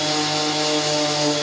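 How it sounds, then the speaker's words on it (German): A power tool sands the edge of a scrap-wood board straight for a key rack, giving a steady, loud, even whine with a strong hum that runs on and then cuts off abruptly. "dann schleife ich meistens nochmal drüber, damit die Kante einfach gerade ist"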